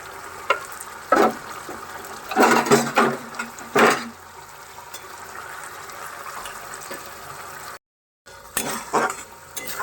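Potatoes sautéed in spice masala in a pan for a Bengali niramish macher ghonto, with bursts of scraping stirring and light frying sizzle, a brief silent gap near the end, and no talking.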